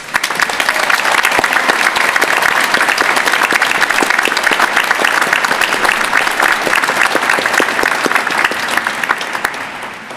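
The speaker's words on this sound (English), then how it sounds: "Please join me in a round of applause for this entire accomplished class." Sustained, loud applause from a large graduation audience honoring the College of Arts and Sciences graduating class at the 2016 University of Virginia final exercises, steady clapping throughout that tapers slightly at the end.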